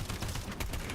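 Suppressed gunfire in the shooter game Sulfur: a rapid run of muffled, close shots packed into under a second, dense and continuous, with no talking.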